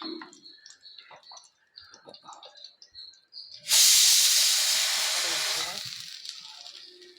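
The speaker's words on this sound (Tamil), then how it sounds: "குக்கர் விசில் வருது" After some quiet talking, a pressure cooker whistle bursts out as a loud, steady steam hiss that slowly fades.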